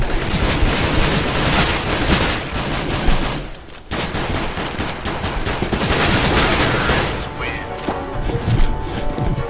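Counter-Strike: Global Offensive gunfire, loud rapid automatic bursts nearly nonstop with a short lull midway, close and harsh, with players talking over it.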